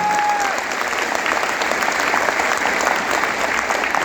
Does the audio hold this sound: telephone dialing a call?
no